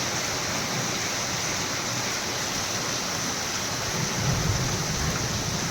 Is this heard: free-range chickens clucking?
no